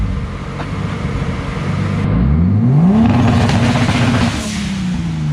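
A turbocharged BMW M52 3.0-litre six in an E30 revs up hard, its pitch sweeping upward then holding at a loud sustained roar before easing back, close to the car with no voices.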